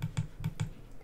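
Keys tapped on a computer keyboard, four quick, crisp plastic clicks in an uneven rhythm, close and fairly quiet in a still room.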